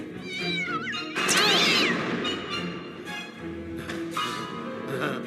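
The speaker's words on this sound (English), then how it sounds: "But Jackson's cat wanders in with a Joker fish in its mouth." Cartoon cat from Batman: The Animated Series meowing, several loud, close, drawn-out yowls with bending pitch, the second call long and wailing, over faint background music.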